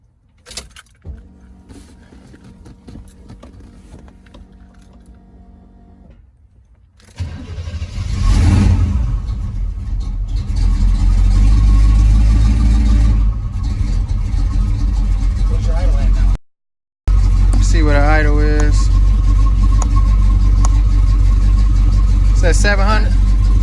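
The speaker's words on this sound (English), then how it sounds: "Please cycle the engine to complete the operation." A car engine fitted with Holley Sniper EFI is cranked and fires up, then holds a loud steady idle. Keys jingle and people talk over the engine, and it cuts out briefly before settling again.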